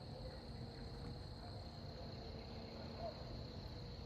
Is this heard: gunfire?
no